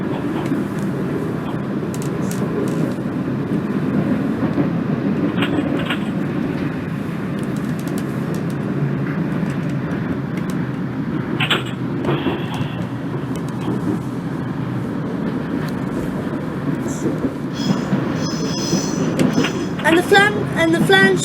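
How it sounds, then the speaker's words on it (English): A train in the Open BVE simulator rolls along with a continuous rumbling drone, and thin high-pitched wheel flange squeals rise near the end, with someone talking at times over it. "And the flange wheel is actually very good."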